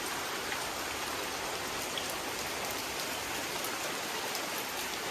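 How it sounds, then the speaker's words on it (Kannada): Steady rain falls without a break after many dry days, a dense even hiss of drops on surfaces around a house, with no voices. "ಒಟ್ನಲ್ಲಿ ತುಂಬ ದಿನ ಆದಮೇಲೆ ಮಳೆ ಬೀಳ್ತೈತೆ"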